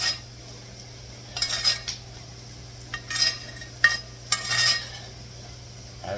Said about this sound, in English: we're just going to kind of marinate that pork chop with your basting spoon